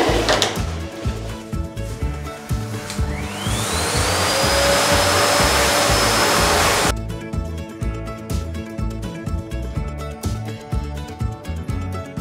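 A vacuum cleaner runs in a home kitchen, starting up with a rising whine into a loud, steady roar for several seconds before cutting off abruptly, followed by quieter clattering room noise.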